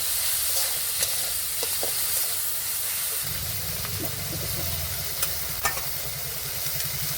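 Ground coriander paste, chili paste and green chili paste frying in hot oil in a pan, a steady loud sizzle and hiss throughout with faint stirring clicks.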